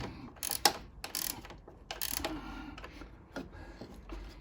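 Ratchet wrench tightening nuts and bolts on a garden shed, several quick bursts of close, crisp pawl clicking separated by short pauses, with no talking.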